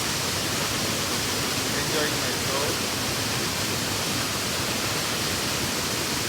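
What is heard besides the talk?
waterfall on the Thiba River, Kirinyaga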